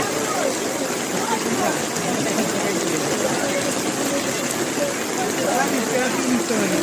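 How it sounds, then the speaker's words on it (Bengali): Continuous rain falls steadily in Silchar, a dense, even hiss that holds at the same level throughout with no pauses. "কন্টিনিউ ভাবে বৃষ্টি হচ্ছে"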